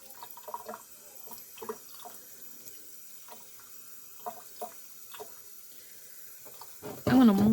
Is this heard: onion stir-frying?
no